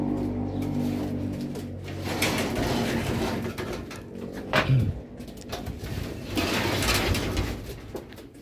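Racing pigeons coo softly and repeatedly in a low, throaty rhythm, close by, with some rustling and faint background noise.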